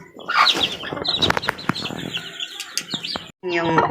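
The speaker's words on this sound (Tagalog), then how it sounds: "Ito yung sisiw ni Gold" A gamefowl hen clucks close by among her chicks, with soft repeated clucks mixed with quick high chick peeps and chirps, and a short gap just before the end.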